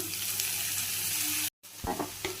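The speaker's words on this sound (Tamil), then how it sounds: "ஆனியன் ரொம்ப வதங்க தேவையில்லைங்க, லைட்டாக வதங்கினா போதும்" Onions sautéing lightly in a pan make a close, continuous sizzle, broken by a brief gap near the end, followed by a few soft scrapes and clinks.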